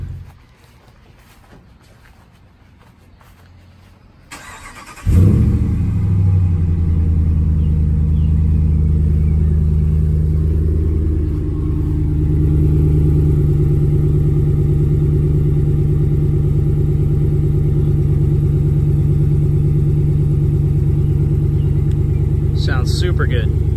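A 2018 Ram 1500 engine running through a Mufflex DOD24M exhaust starts after a few quiet seconds and settles into a loud, steady, deep rumble that continues near and alone, with a slight dip midway.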